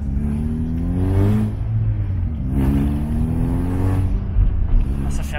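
Small Peugeot 106 engine running with no catalytic converter, giving a rough, tractor-like note; revs rise and fall in repeated surges, loud and close.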